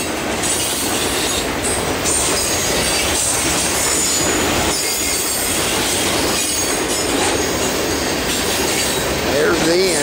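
A long CSX manifest freight train rumbles past up close, steady wheel noise and rattling cars throughout, with a brief metallic squeal near the end.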